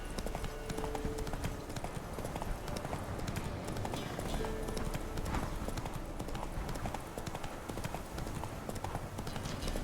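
Galloping horse hooves in a video game, the horse ridden by a Witcher-style horseman, a steady rapid clip-clop running loud and continuous throughout with a faint neigh and no talk.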